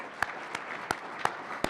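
An audience at a university media arts awards banquet applauds for an honoree, a steady patter of hand claps with a few sharper individual claps standing out; no cheering voices come through.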